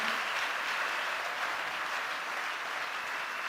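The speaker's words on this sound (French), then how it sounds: "On acclame encore très fort pour le Seigneur." A church congregation applauding together, steady and sustained throughout, with no talk over it.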